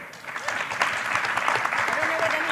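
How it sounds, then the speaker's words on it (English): Applause from a conference audience after a speed-debate event, a steady wash of clapping from many hands throughout the short stretch. "Give them both a round of applause."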